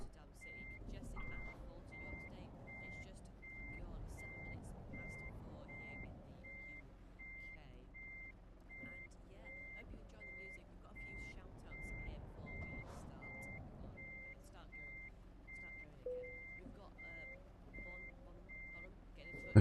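A truck reversing its trailer in the driving game Euro Truck Simulator 2 emits an even, repeating series of electronic reversing beeps over a low engine hum, while a voice talks at intervals.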